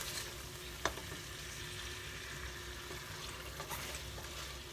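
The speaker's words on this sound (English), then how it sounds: "Go ahead and fry some more." Curry chicken frying in a pan makes a steady, quiet sizzle with soft crackles and one brief sharper pop near the start, and no voices.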